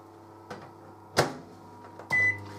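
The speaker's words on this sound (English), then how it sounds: "I'm going to place the piece of wood in the microwave" A household microwave oven heating a piece of wood starts up after a couple of door and button clicks, then settles into a steady low hum with a fan whir.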